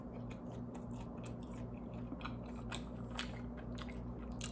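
Close-up biting and chewing of a three cheese pizza topped with bell peppers and onions, with a steady run of soft crunches and wet chewing over a constant low hum, no talking.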